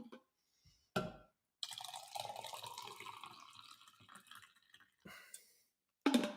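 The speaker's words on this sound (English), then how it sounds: "let's pour more coffee in because I need it" Coffee is poured into a cup in a steady liquid stream lasting a few seconds, faint and close, framed by short clinks and small splashes.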